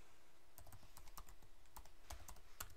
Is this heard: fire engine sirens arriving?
no